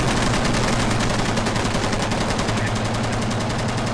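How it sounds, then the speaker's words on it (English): Sustained rapid automatic gunfire fired at turret gunners in the military shooter game Squad, a dense continuous rattle of overlapping shots that stays loud and close throughout. "They're trying to shoot the gunners out of these turrets."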